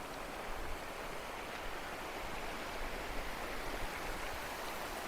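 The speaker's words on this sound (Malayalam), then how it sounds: "നല്ല ശക്തമായ വെള്ളം കേട്ടോ ഇത് ഫൗണ്ടനിൽ." A powerful fountain jet at Brindavan Garden gushes as a dense, even rush of water, constant and broadband, heard up close with no voices.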